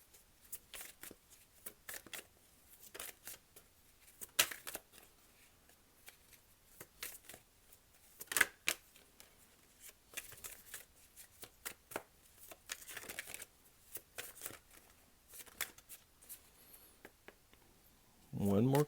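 Tarot cards being shuffled by hand, a close, irregular run of crisp riffling and flicking bursts with short pauses between them, with a brief voice at the very end.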